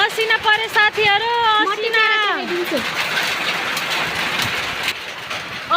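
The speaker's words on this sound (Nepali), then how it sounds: "असिना परी बरफ आयो भाइ" Hail falls outdoors, heard as a dense, steady patter and hiss that follows a voice at the start and continues to the end.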